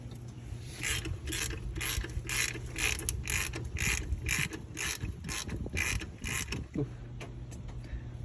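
A ratchet clicks in quick, even bursts as it loosens the serpentine belt tensioner on a Toyota Corolla 1.8L 2ZR-FE, close and fairly loud, followed by a short creak near the end.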